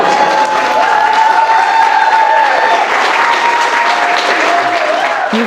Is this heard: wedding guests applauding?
yes